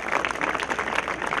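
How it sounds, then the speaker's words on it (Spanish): An audience applauds at a 62nd anniversary event in La Molina, giving a brief burst of dense, steady clapping with crowd noise. "Lo recibimos con fuertes palmas a don Diógenes Alba Alvarado."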